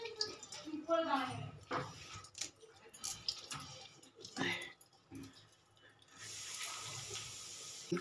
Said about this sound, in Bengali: জলটাকে আমি একটু ছেঁকে নিচ্ছি